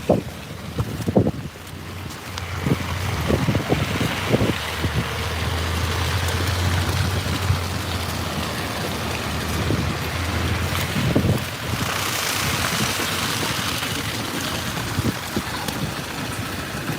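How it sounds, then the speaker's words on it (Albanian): Strong wind roars through a snowstorm in a snow-covered city, buffeting the microphone in a loud, continuous rush with a few gusty thumps. "Shumë erë."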